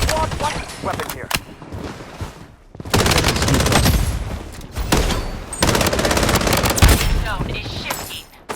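FN F2000 rifle fire in the mobile shooter Blood Strike comes as loud rapid automatic bursts in several long strings separated by short pauses, with game voice callouts in places.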